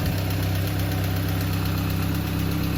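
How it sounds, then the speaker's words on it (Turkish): A Fiat Marea 1.6 16V engine idles steadily and evenly, a low continuous rumble with a faint rhythmic pulse throughout, close by and with no voices. "Şu an aracımız gayet güzel çalışıyor"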